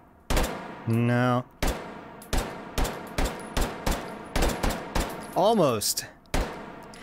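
Automatic fire from a Glock 22 pistol in the VR shooter H3VR, heard as a fast rattling burst, then a string of evenly spaced single shots and another burst, with someone speaking briefly between them.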